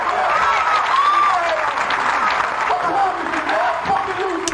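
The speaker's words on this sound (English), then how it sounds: "sitting in the audience cheering and clapping your fucking hands" An audience at the Black Expo applauds a speaker's speech with sustained, even clapping from a sizable crowd, while a voice talks over it.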